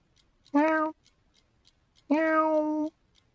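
Two separate meows from the Simon's Cat cartoon cat, the first short and the second drawn out and falling, clear and close over near silence; likely a voiced imitation of a cat.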